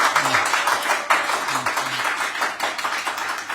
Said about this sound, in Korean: 우리와 같은 박수를 한번 여기서 여기 유튜브에 들리게 한번 좀 쳐주세요.